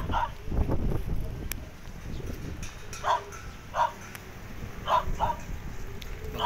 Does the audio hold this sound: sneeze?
no